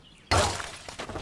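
Glass shatters with a sudden loud crash in the Angry Birds video game, followed by a scatter of smaller tinkling fragments settling over about a second.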